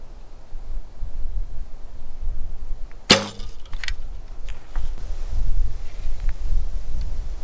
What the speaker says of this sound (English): The wind's moving and blowing